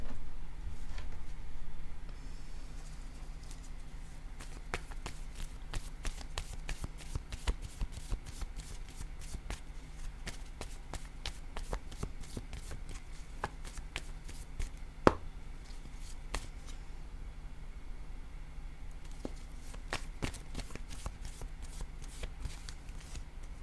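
A deck of cards is shuffled at a table in a steady run of soft, crisp riffling clicks that continue for a long stretch, close by and fairly quiet.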